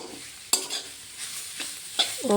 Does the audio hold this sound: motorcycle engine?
no